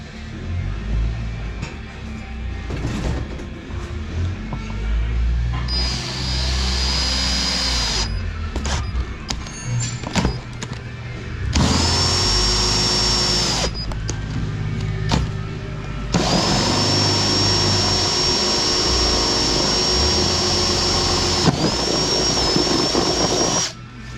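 Power drill boring into metal while a PTO is fitted to a Kubota RTV 1100 utility vehicle, in several loud sustained runs with a high whining tone, broken by short pauses and clatter.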